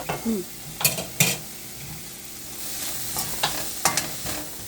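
Capsicum stir-frying in a home kitchen pan, cooked by a young girl. Brief, sharp metal spatula scrapes and clatters sound over a soft, continuous sizzle, with a few clustered knocks near the end.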